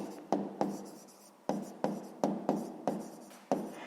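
Pen strokes on paper while working a sixth-grade math exercise, a series of about eight quick, crisp scratches in an uneven rhythm, close and clear with no talking.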